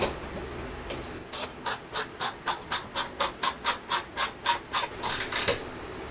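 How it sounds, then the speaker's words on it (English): A 1/2-inch lag screw is driven into a wall in a rapid run of about fifteen evenly spaced ratcheting clicks from a ratchet wrench, each a short sharp burst, close and fairly loud. "Put it in our lag screw."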